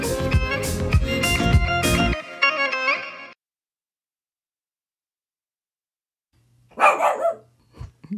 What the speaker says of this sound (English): Try not to get your dog to bark.